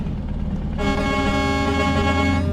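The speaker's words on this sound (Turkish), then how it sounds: "Kornalar da ona, onlara gelsin." Truck horn in Euro Truck Simulator 2, driven as a Volvo, blaring as a long, loud, steady honk over engine rumble, starting sharply and holding to the end.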